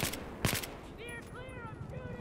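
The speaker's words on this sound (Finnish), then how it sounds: "Mä ammuin kaikki tuohon palikkaan tuossa." Gunfire in the Battlefield 4 multiplayer game: a short cluster of sharp shots at the start, then quieter game sounds under someone talking.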